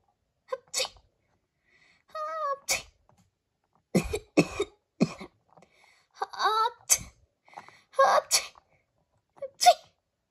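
Someone sneezes in a series of sharp bursts, about six spread unevenly over ten seconds, with brief voiced sounds between them.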